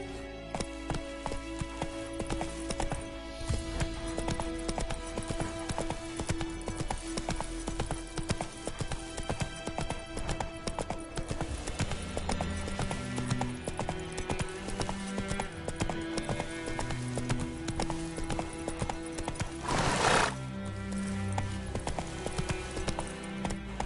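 A horse in The Witcher video game gallops with a steady, close clip-clop of hooves over continuous game music, and a short whinny rings out near the end.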